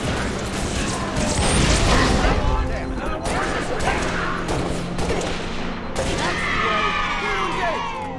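Heavy gunfire in the Halo Reach video game, a loud, continuous barrage of rapid shots and blasts with mechanical clatter, radio voices talking through it.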